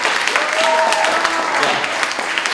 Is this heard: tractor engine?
no